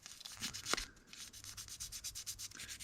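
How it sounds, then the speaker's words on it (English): Light sanding of a model car body's side skirt with 600 grit sandpaper, a soft, steady rubbing rasp in repeated short strokes, close and quiet with no talking. "using 600 grit, not putting a lot of pressure on at all, just letting the sandpaper do the work"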